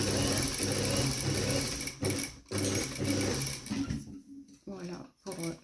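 A sewing machine stitches a straight seam on a lined tailored vent, with rapid close mechanical needle chatter in bursts broken by short pauses, while someone talks over it.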